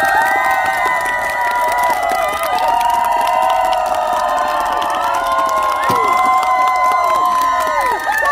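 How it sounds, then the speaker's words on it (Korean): Concert crowd at a year-end show in Hadong applauding and cheering loudly, with shouts and whoops rising over steady clapping throughout. "중간 박수 한번 그 가수분에게 보내주세요."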